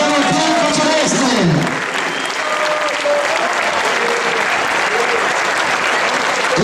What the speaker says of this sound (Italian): ancora un applauso per il futuro, per il Franza, per il bianco celeste